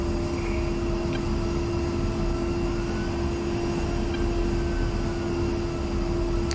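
Twin jet engines of an A-10C II in the DCS World flight simulator spool up for taxi, a steady loud roar with a constant whine, continuous and unbroken.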